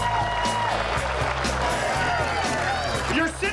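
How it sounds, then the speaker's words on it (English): Crowd at a Bassmaster Tour weigh-in on Lake Okeechobee applauding champion Terry Scroggins, steady clapping and cheers over a low event drone, with voices in the mix. "Give me another round of applause for this guy."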